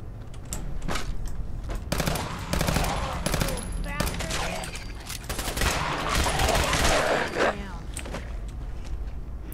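Upgraded pistol fire in Fallout 4, rattling off in dense rapid bursts of sharp cracks across the whole stretch, close and loud, with short gaps between volleys.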